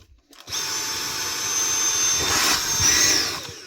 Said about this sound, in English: One Dyson cordless vacuum.